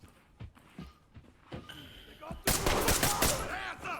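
Gunfire in the tactical shooter Ready Or Not: a few scattered close shots, then a dense burst of rapid automatic fire with heavy reverberation, sounding alongside other game noise.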